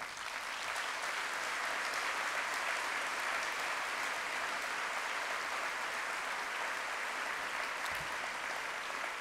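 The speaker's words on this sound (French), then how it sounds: "je crois qu'ils méritent nos applaudissements" Sustained applause from a large convention audience honouring elected officials at the opening of an intercommunality convention, a dense, even wash of clapping throughout with no speech.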